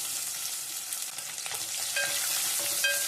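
Garlic frying in hot oil as the base for a spicy fish curry, a continuous bright sizzle with soft stirring scrapes and a few faint high tones near the end.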